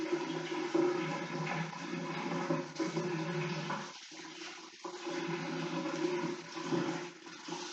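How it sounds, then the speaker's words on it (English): Water running from a tap while hands are washed, a steady rushing splash that briefly drops out twice before resuming, fairly quiet and heard alone. "I'm just going to quickly wash my hands"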